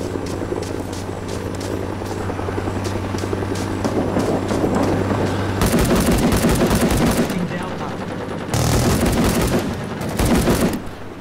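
In Rising Storm 2: Vietnam, AK rifle fire and a .50 caliber machine gun rattle in loud, rapid bursts, close and overlapping. A throbbing helicopter rotor drones beneath them, and the volleys intensify toward the end.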